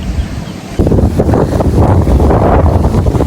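Strong wind at a fish pond buffets the microphone in a loud, continuous roar that surges and gusts, close and rough, with no voices.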